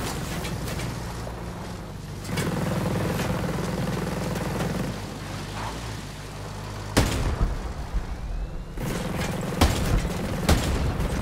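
Explosions and gunfire in the video game Ghost Recon Breakpoint, with heavy booms and bursts of shots over a constant engine-like drone, loud and chaotic throughout.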